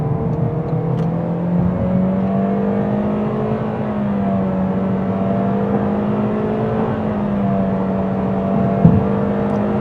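A 2025 Toyota Corolla FX engine pulls under throttle through a turn, a steady droning hum from the cabin with faint rising tones, holding level and fairly loud with a small bump near the end.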